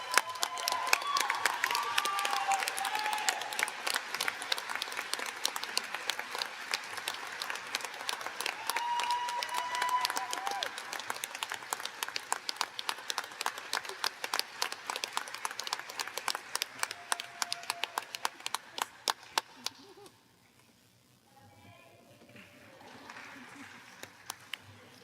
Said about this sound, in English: please help me in giving Paige Coltron a big round of applause for honorable mention.